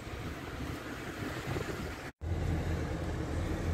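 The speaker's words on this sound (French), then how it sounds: "il y a un peu de vent, donc j'espère que vous m'entendez comme il faut" Wind blows outdoors at a picnic spot in a small park in Biganos, a steady, rushing buffet close on the microphone that drops out briefly midway, then returns as loud as before.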